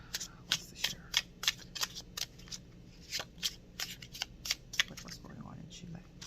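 A deck of cards being shuffled and handled during a tarot-style reading, a run of crisp riffling snaps and flicks in irregular bursts, close and clear, with faint background sound between them.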